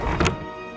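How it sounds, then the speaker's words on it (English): A door closes inside the game Honkai: Star Rail with a single heavy, close thunk, leaving a low lingering ring and steady hum afterward. "close the door"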